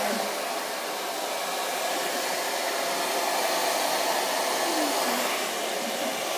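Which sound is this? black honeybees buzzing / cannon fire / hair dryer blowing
hair dryer blowing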